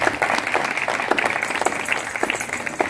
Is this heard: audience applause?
yes